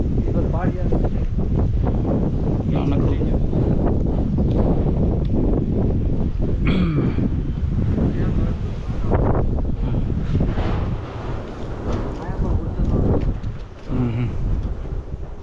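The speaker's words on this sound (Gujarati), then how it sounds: "થોડોક પવન ઠંડો આવ્યો પણ આ વરસાદનો જ પવન છે" Gusty, cool rain-bearing wind near Halvad, Gujarat buffets the microphone in a steady low roar, with a voice talking over it.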